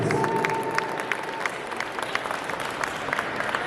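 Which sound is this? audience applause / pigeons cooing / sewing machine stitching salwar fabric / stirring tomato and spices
audience applause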